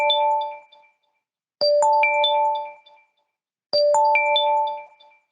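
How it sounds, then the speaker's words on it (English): A loud electronic chime signalling the start of a video court hearing rings out three times at even intervals, each a bright multi-tone ding that decays before the next, with silence between. "we once again get a loud ringing sound to alert us that the hearing is about to start"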